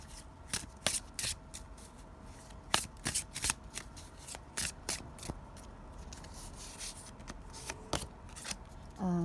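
Oracle cards are shuffled by hand for a tarot reading, a run of crisp riffling bursts and soft slides in an irregular rhythm, close and fairly quiet.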